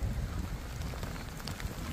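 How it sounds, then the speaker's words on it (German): Storm with wind and hail during a trout fishing outing, heard as a continuous loud roar of wind buffeting the microphone, with a dense patter of impacts and no talking. "Muss das mit Hagel?"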